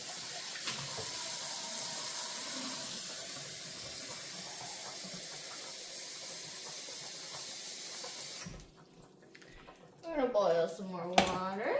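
Water runs steadily from a kitchen faucet into a pot for boiling water for pork and shrimp wonton soup, a continuous hiss that stops after about eight seconds, followed by a clank of cookware and a brief voice.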